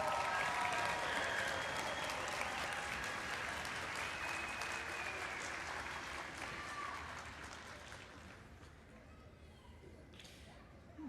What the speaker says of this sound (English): Let's give all of our graduates another round of applause.